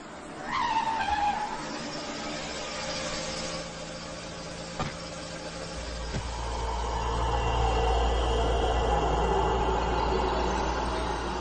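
A car's tyres squeal sharply as it skids to a stop in a Hindi film scene, followed by a sustained low engine rumble that grows steadily louder, with no voices over it.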